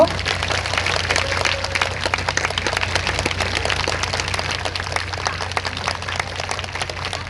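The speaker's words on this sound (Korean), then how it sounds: "큰 박수 부탁드릴게요" An outdoor concert crowd applauds a city symphony orchestra at a fortress venue, a broad wash of clapping sustained throughout over a low steady hum.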